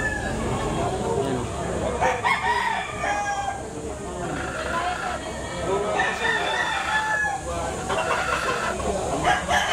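Gamecocks, sweater and hennie breeds, crow repeatedly at the Lipa tiangge market in Batangas, with several loud, overlapping calls rising over constant market chatter and voices.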